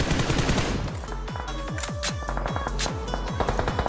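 Rapid automatic gunfire from BGMI, the mobile battle royale game, with dense, evenly spaced shots in quick bursts, loud and close, continuing through the whole stretch with no talking.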